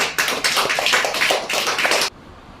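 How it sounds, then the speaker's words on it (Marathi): Children clap their hands together during a classroom treasure-hunt game, a close, steady burst of about two seconds that ends abruptly. "चला 5 साठी टाळ्या वाजवा."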